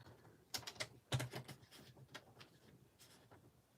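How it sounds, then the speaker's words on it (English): Paper trimmer or blade cutting cardstock strips down to 3-inch squares, a quick series of faint, close clicks and slicing taps in short irregular bursts, with no talking. "And now I'm going to cut these down"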